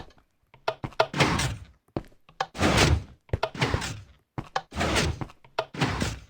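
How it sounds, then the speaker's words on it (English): A Minecraft redstone piston door opens and shuts from a pressure plate, a steady series of dull mechanical thunks and sliding pushes repeating in rhythm, loud and alone. "Now you can stand on any pressure plate and the door will"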